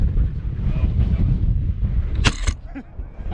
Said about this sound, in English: As you can tell, it's pretty windy.